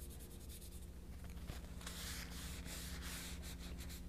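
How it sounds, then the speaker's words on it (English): A paper towel rubs and spreads wet paint across watercolor paper in a steady, soft scrubbing sound, fairly quiet and close, with no talking. "And kind of rub, spread it out."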